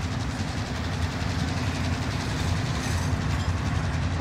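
A train in a shooter video game rolls along its rails with a steady rumbling clatter and engine drone, loud and continuous, with no speech.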